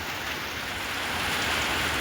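Rain pours down steadily in a dense, even hiss of drops on surfaces, close and unbroken throughout without any voices.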